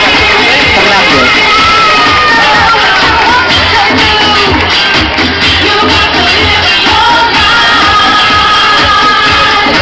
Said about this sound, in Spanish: Fuerte el aplauso para Cintia Fernández